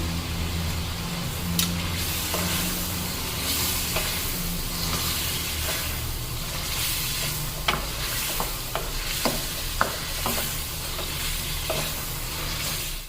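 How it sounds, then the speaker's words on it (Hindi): Spices and masala frying in a pan for chicken karahi, a continuous close sizzle broken by repeated sharp clinks and scrapes of a utensil stirring. "देखिए थोड़ा सा भून लिया है मसाले डाल के"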